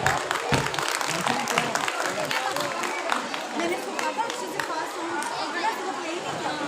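Dense, steady applause fills an audience hall at The Bristol school ceremony, with many hands clapping continuously and a murmur of crowd chatter mixed in throughout.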